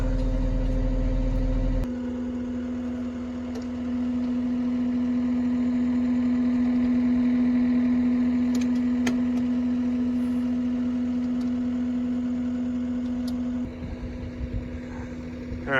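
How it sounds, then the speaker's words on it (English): A skid steer's diesel engine idles on a farm with a steady, droning hum that holds for the stretch, close and continuous, dropping slightly near the end. "we'll use the skid steer to lift the tire up"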